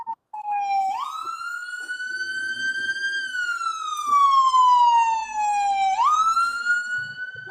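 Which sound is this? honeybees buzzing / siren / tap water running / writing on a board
siren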